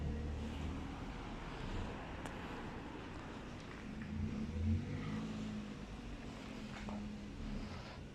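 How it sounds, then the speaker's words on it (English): A truck turns in on a narrow street in Cambridge: a low, steady engine rumble with faint traffic noise, swelling moderately as the vehicle manoeuvres nearby, with no talking. "Oh, that truck's actually turning in."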